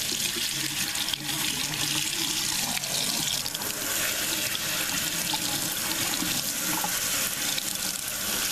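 Water pours steadily from bottles into a cat's pet fountain, making a continuous, fairly loud rushing splash with no talking.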